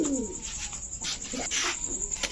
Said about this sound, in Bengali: এখন দেখাবো এক জোড়া আর্মি কবুতর